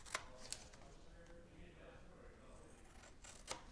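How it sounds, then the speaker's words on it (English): Scissors snip off an excess paper strip at a stamping craft table: a few crisp, close snips spaced apart over a quiet, soft background. "Now you can take your scissors, and we're just going to snip off that extra."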